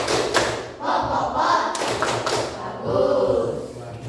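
A classroom of students claps together in a quick rhythmic pattern, with voices calling out between the bursts of clapping.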